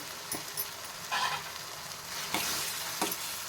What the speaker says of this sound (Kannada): ನೋಡಿ ಈ ಥರ ಕುದ್ದು ಕುದ್ದು ಎಣ್ಣೆ ಎಲ್ಲ ಮೇಲ್ಗಡೆ ಬರಬೇಕು ಚೆನ್ನಾಗಿ ಫ್ರೈ ಆಗಲಿ